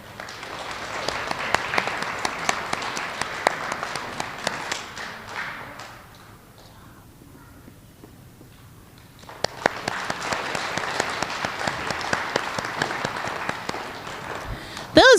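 An elementary school audience applauds first grade students of the month, a loud burst of clapping and cheering that fades to a quieter pause before a second round of applause swells again.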